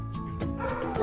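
A shelter dog gives a short run of yips and whimpering barks, close by and fairly loud, with the calls rising toward the end.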